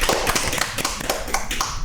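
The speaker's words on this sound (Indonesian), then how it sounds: "Tepuk tangan dong." A small studio audience claps for a guest on an Indonesian education podcast, with dense, close, sharp hand claps running continuously for about two seconds.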